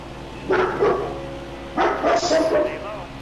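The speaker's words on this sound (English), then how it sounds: "Stop barking!" A dog barks indoors in a couple of short, close bursts, loud against a constant low background hum.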